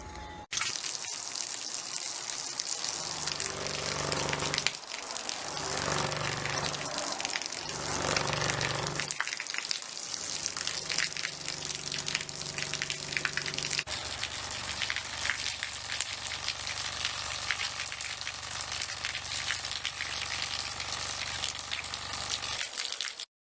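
Water churns and sizzles steadily as it is vibrated by a 25 hertz tone, with a dense, rushing texture and a low rumble underneath, continuous for the whole stretch with no voices.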